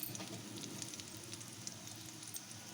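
Boiled chicken pieces fry in oil with masala in a pan, giving a steady, soft sizzle that holds evenly throughout with faint crackles on top.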